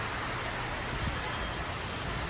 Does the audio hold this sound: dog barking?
no